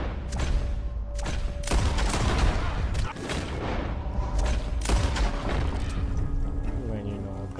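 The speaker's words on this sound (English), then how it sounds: "Gunshots are coming from that barn!" Red Dead Redemption 2 gameplay: gunfire bursts from inside a barn, sharp repeated shots and booms in irregular clusters, loud and close, layered over a low game soundscape with voices talking.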